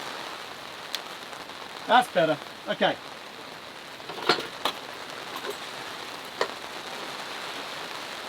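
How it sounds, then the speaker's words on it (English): Rain falls steadily during car camping, making a constant hiss of drops on surfaces, with someone speaking briefly and a few knocks and taps over the patter. "the rain seems to be blowing in from the front"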